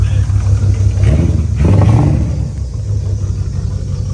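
A Ford 6.0 Power Stroke diesel engine cranks and rumbles loudly at close range, swelling briefly as it catches and then settling into a steady low idle, with voices talking over it.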